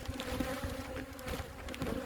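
Honey bees swarming beside booming hive colonies, a steady dense buzz of many insects droning continuously at close range with no voices.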